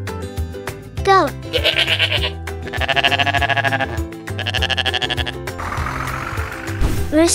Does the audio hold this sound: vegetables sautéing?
no